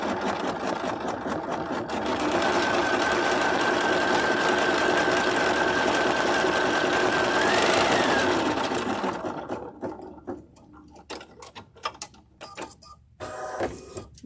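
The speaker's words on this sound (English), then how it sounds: "this is why I love machine applique like this" A sewing machine stitching leaves in machine appliqué with a zigzag stitch, a loud steady close whir running for several seconds, then slowing into stop-start bursts and clicks.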